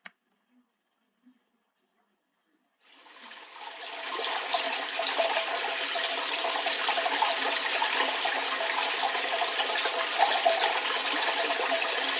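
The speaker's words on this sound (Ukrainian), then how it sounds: "Як лється вода зі шлангу," Steady broadband rush of water pouring from a garden hose starts after a few seconds of near silence and continues loudly and evenly to the end.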